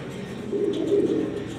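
Jharna sharting pigeons coo in a low, continuous murmur, swelling slightly midway, close and steady with no talk.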